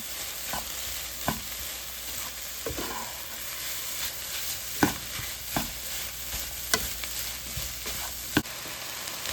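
Shrimp tossed into a pan with eggs, frying with a steady sizzle as a utensil scrapes and stirs in irregular clacks, close and alone.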